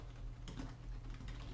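Typing on a computer keyboard comes through as a quiet run of light, quick key clicks, faint and close, with no voices.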